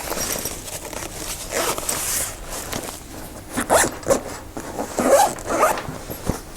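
Velcro divider inside a National Geographic NG W5070 camera backpack is ripped loose in several rough tearing bursts, loud and close, with no talking.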